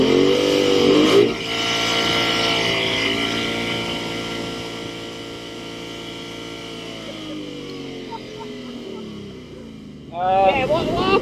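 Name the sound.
Ford Mustang GT launching with line lock, wheels spinning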